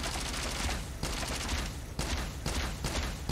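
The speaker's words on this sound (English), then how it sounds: "First time you shoot, it does a bang." Type-25 rifle fire in Call of Duty Mobile, a few bursts of rapid gunshots with short pauses between them, loud and close, with no talk.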